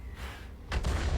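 A tank gun fires in World of Tanks, a single heavy boom with a sharp broadband onset that then rolls on as a sustained rumble, fairly loud and with no talk over it.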